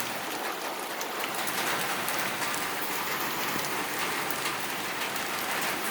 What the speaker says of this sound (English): Relaxing and enjoying the nice little rain we're having.